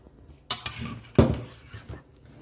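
Cooked mustard greens are tipped into a blender jar, with a couple of clinking knocks of a utensil against the container and soft scraping, close and moderately loud.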